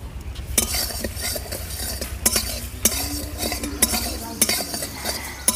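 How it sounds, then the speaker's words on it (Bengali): Whole spices dry-roast in a very hot, dry wok-style pan, with repeated scraping and stirring clinks of a metal utensil against the pan over a low crackle, close and fairly loud. "এবারে আমি শুকনো খোলায় মশলাটাকে ভেজে নেব।"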